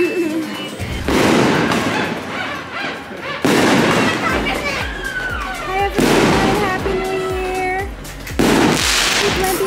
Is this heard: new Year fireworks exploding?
yes